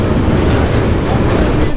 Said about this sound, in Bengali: আর এই ট্রেন জার্নি দারুণ লাগছে